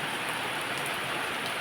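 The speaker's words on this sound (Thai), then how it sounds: "มาวันนี้ฝนตก" Rain falling steadily, a dense close hiss of drops on surfaces, unbroken for the whole moment.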